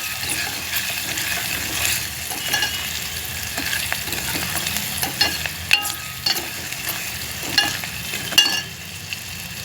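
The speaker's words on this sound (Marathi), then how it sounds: "मिरची वरीबरोबर मिरची भाजून घ्यायची" Barnyard millet (varai) and green chilies being dry-roasted in a pan over medium heat, with a steady soft sizzle and repeated scraping, stirring clicks from a spatula, close and continuous without talk.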